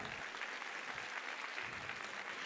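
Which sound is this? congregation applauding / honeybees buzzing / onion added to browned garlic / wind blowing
congregation applauding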